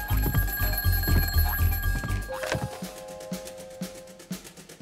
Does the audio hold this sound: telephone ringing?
yes